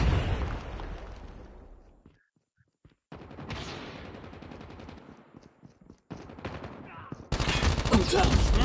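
Gunfire from the Call of Duty Mobile video game comes in rattling bursts, drops to near silence for a moment, then returns with sustained shooting and a loud, dense barrage at the end.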